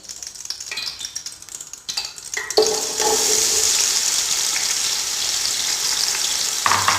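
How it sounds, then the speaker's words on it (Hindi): Onions dropped into well-heated oil for vegetable fried rice burst into a loud, steady sizzle that continues unbroken, after a few quieter clattering kitchen sounds. "ऑयल हमारा बहुत ही अच्छी तरह गर्म हो गया है। अभी हम इसमें ऐड करेंगे प्याज।"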